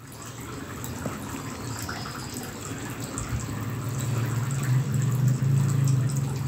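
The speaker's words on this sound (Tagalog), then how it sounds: "Naglagay po ako dyan ng 1 cup of oil." One cup of oil is poured into a bowl with mashed overripe banana, sugar and egg for rice-cooker banana bread, giving a steady close liquid hiss and pour that swells slightly toward the end, with no talking.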